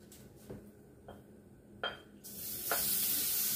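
Shrimp hitting a hot skillet of peanut butter oil for a honey shrimp stir fry, starting with faint taps and clinks before a loud, steady sizzle swells up and holds to the end.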